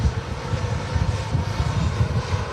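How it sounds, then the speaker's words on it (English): A Jet2 Airbus A330 taxiing out at Manchester Airport on a windy day, giving a steady, fairly loud low engine rumble that holds constant with no talk over it. "on the taxi out, we have the Jet2 A330"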